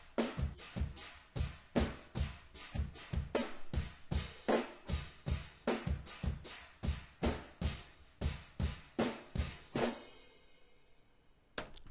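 Drum takes recorded through different mics, room, stairwell and crushed, blended into one punchy kit, hard repeated hits in a driving pattern that thin out and stop near the end.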